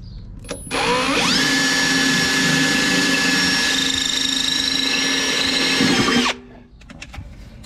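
A power drill whirs steadily for about five seconds, boring a pilot hole for fitting a Garmin UHD 95 transducer, loud and close with a sharp start and stop.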